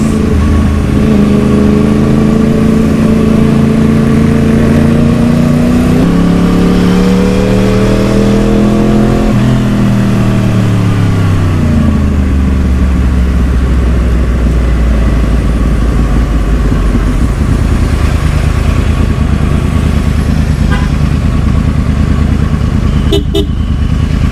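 A Porsche engine approaches loud and close, rising in pitch and then dropping as it passes by, with a deep rumble trailing off and a brief horn-like toot near the end.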